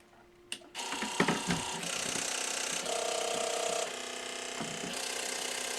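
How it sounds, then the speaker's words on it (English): A Husqvarna Viking Amber Air 600S serger starts up from off with a few sharp clicks and ratcheting mechanical noises, then settles into a steady whirring hum with a brief higher tone, close and alone. "Now the serger is off right now, and I left it off because I want you to hear what it sounds like when it wakes up."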